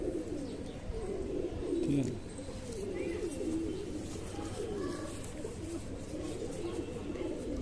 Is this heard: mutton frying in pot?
no